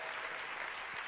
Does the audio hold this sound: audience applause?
yes